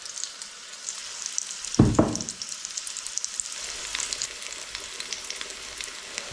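Onion, tomato and green chilli frying in a pan for a spicy Kashmiri dum aloo curry: steady close sizzle with crackling pops and a brief louder clatter of stirring near the start, no talk.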